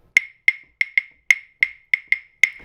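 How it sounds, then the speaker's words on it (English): Nine sharp metallic bell strikes in an uneven, syncopated pattern, each bright and ringing briefly, clear and close with silence between. "So you could take a rhythm usually played on bell that sounds like this"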